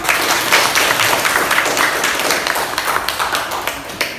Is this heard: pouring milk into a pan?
no